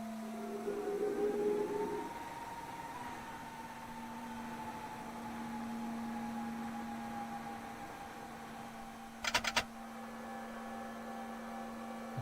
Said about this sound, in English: Flap sounds are good.